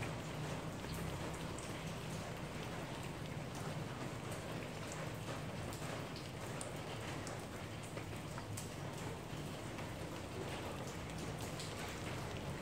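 Steady rain pours down on surfaces, a dense, even hiss of countless drops that holds constant from start to finish without any voices.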